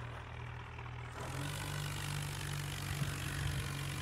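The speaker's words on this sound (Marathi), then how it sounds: "बघा आता मस्तपैकी रोटर चालू केलेला आहे।" An Arjun tractor runs with its rotavator engaged, making a faint, steady low engine drone that rises a notch after about a second and continues evenly.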